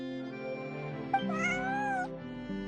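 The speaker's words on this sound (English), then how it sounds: "Good kitty." A cat meows in the video game Genshin Impact, giving one drawn-out, rising meow in the middle over a steady musical background.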